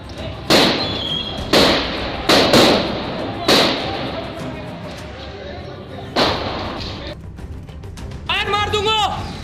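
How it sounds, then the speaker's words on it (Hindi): Gunfire from above during a police raid on a house in Karachi: several loud sharp bangs in irregular succession, each with a booming tail, over background voices and noise. "अचानक ऊपर से गोलियां बरसने लगीं।"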